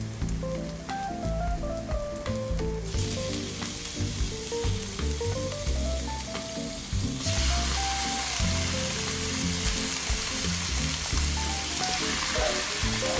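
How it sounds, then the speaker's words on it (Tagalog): Chicken marinated in soy sauce and black pepper sizzles steadily in a pan with butter, a loud close frying hiss with stirring scrapes that grows brighter partway through, with no talk. "I-saute lang natin yan para manuot yung lasa ng marination natin saka ng ating butter"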